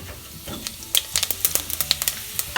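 Fenugreek (methi) seeds sputter in hot oil, a sharp irregular crackle of close pops over a steady sizzle, quickening and growing denser partway through.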